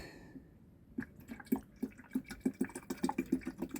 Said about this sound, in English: I'm just gonna pour coolant in